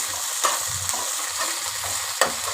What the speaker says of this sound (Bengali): লঙ্কাটাকে আমি একটুখানি ভাজা ভাজা করে নিচ্ছি তেলে